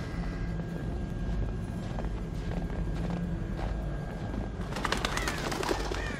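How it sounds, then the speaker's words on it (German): Birds coo with soft, throaty calls in Until Dawn over a constant low ambient rumble, with faint footstep-like taps and a brief fluttering burst near the end. "Blöder Vögel."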